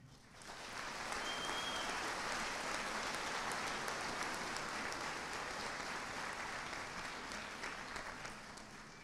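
A large audience at a graduation ceremony claps steadily, a dense, even wash of applause that swells in quickly and holds throughout.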